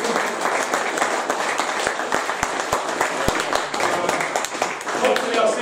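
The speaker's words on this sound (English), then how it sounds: "If we can give our winners a round of applause." A crowd gives a steady round of applause for the winners at the end of the Scouring of Che Shire 2018 event, with many hands clapping close by and voices mixed in throughout.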